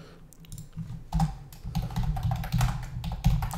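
Computer keyboard typing a campaign name into a website audit tool, a steady run of close, moderately loud key taps in an uneven rhythm, alone without talk.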